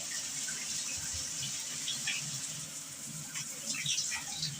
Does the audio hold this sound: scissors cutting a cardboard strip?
no